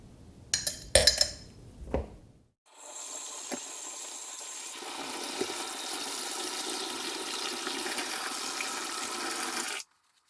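A few metallic clinks of trumpet parts in a sink give way to tap water steadily filling a basin, a loud, even rushing that runs for several seconds before cutting off abruptly.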